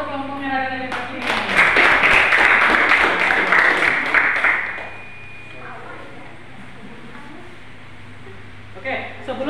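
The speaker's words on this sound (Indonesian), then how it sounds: "beri tepuk tangan untuk kelompoknya Raden Ajeng Kartini" A classroom applauding a student group after their presentation, with a burst of clapping in the first half that fades into quieter room noise and talk near the end.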